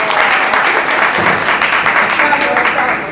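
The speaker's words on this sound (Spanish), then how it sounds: "ahora van a aplaudir" An audience at a technique class claps in a dense, steady burst for about three seconds, close and fairly loud.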